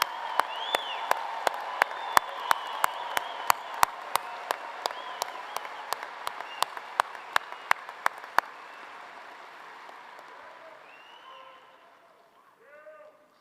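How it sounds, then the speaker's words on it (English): Audience at a university bachelor's graduation ceremony claps in a sustained round of applause that slowly fades, with a few sharp individual claps standing out up close and a faint voice returning near the end. "And for that, you deserve our applause."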